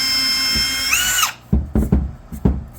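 A power drill whines steadily, then cuts off, followed by several short bursts of the motor as a screw is driven in, close by.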